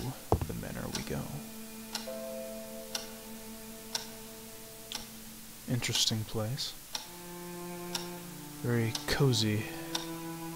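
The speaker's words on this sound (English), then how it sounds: "A majestic grandfather clock was gently ticking nearby." A grandfather clock in a manor in the Scratches video game ticks gently and evenly at about one beat per second, steady throughout while someone speaks over it.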